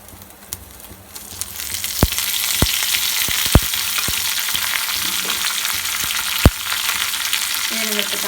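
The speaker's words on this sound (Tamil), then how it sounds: "கடுகு கருவேப்பிலை நல்லா பொரிஞ்சு வச்சு" Mustard seeds and curry leaves spluttering in hot oil for a tempering, a dense close sizzle punctuated by several sharp pops and crackles scattered throughout, with no talking.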